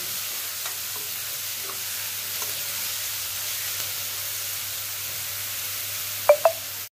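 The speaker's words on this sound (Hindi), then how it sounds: "प्याज को अच्छे से भून लेंगे" Onions fry in a pan for a suraN (elephant foot yam) curry, giving a steady, even sizzle with a low hum beneath and two brief utensil clinks near the end, without speech.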